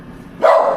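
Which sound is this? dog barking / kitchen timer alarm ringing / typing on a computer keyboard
dog barking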